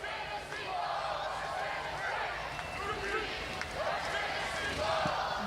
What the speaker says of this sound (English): I'm going to be quiet for just a second so you can hear some of this cheering